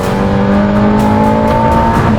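Aston Martin Valhalla hypercar engine revving high and steady near 7,000 RPM, a loud sustained tone with strong harmonics rising slightly, close and continuous with no talking over it.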